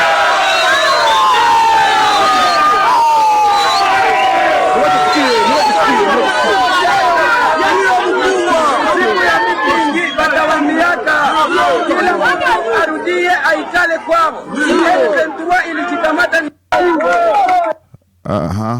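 Residents of Bukavu cheering and clapping for passing soldiers, a dense, loud crowd of shouts, chatter and scattered claps that runs on without pause.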